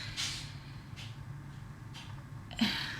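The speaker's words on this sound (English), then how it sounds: "This cat sneeze." A cat's few small, breathy sneezes spaced out over a few seconds, quiet and close against a soft background hiss.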